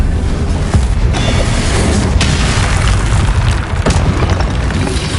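A loud, continuous roaring blast from the Confringo blasting curse in the game Hogwarts Legacy fills the whole stretch, dense and booming with a few sharper surges on top, no talking over it.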